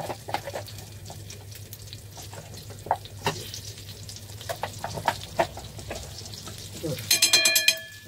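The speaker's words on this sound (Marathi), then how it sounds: "आपल्याला पनीर पहिलं फ्राय करून घ्यायचं आहे. त्याच्यात मी थोडं तेल टाकले आणि" Paneer fries in butter and oil in a pan, giving a steady soft sizzle with scattered crackles that grow busier toward the end, heard under faint background noise.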